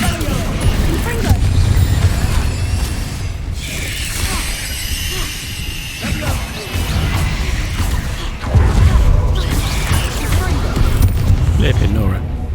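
Spell blasts and explosions burst out repeatedly in a Harry Potter video game, loud booms and crashes layered over dense game music and effects, with a voice talking between them.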